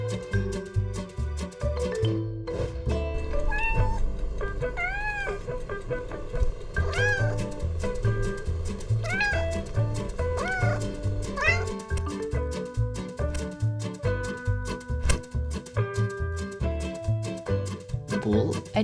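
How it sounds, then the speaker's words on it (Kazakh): A cartoon cat meows repeatedly over a bright, steady musical backing, each meow rising and falling clearly above the tune. "Бұл мысық."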